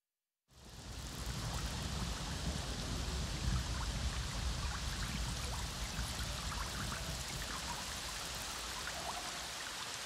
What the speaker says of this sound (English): you can see the rain come down a little more